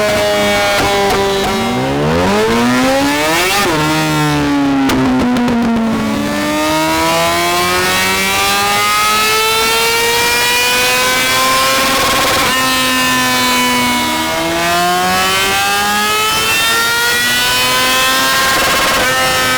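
A 2018 Yamaha R6 middleweight sport bike, decatted and on a dyno, revs hard and climbs through its gears with a loud, high-pitched scream, then drops back and winds up again.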